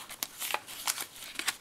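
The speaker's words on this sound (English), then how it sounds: "I love the sound of that paper." Decorative paper from a package of happy mail being handled close up, with crisp crinkling and rustling bursts in an uneven rhythm and no voices over them.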